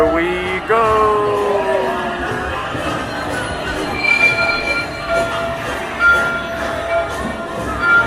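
A Disney World ride train rolls along the rails with a loud squeal of metal wheels, steady rumbling clatter, and rhythmic clicks of wheels over track joints.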